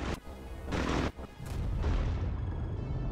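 Booming bomb blasts from the War Thunder video game, several heavy detonations in quick succession, the last one rolling out into a long rumbling tail.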